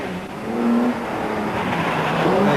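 Cosworth V6-engined rally car with a rebuilt engine, driven very fast into a left-hand bend on a winter rally, its engine note rising loud and steady throughout with a bright, whining pitch.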